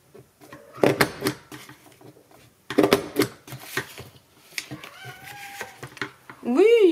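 A pet cat meows in short, rising calls near the end, after a stretch of clattering craft-tool clicks and thumps, with someone talking in between.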